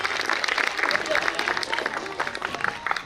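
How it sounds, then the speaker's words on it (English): Applause for performers at a school annual concert, a lively roomful of clapping, brisk and uneven, with voices mixed in underneath. "A clap for them."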